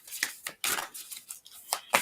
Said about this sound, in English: 3 shuffles. They're very broad shuffles